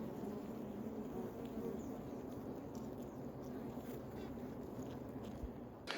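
Honeybees at a hive with a dead queen found outside, humming softly and steadily in a low, calm drone with no smoke used, faint and continuous throughout.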